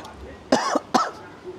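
Two sharp, close coughs in quick succession, each a brief broadband burst, with quiet room tone around them.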